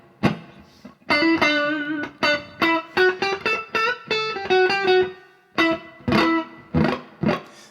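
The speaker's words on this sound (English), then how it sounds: "the 60s is like a nice smooth amp reverb" Guitar played through a Strymon Flint reverb pedal on its 60s amp-reverb setting: a melodic run of clean, sustained single notes with smooth reverb tails, played alone.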